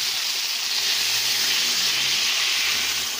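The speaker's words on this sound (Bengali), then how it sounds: "সবগুলো মাছ আমি এইভাবে ভেজে নেব।" Pieces of big vetki fish fry lightly in hot oil while a village-style fish curry is being cooked. The sizzle is a loud, close, continuous hiss that stays even throughout, with no voices.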